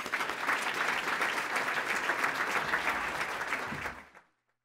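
A dense, sustained burst of audience applause welcomes Dr. Peter Pronovost at the City Club of Cleveland. It is steady and full for about four seconds, then fades quickly to silence.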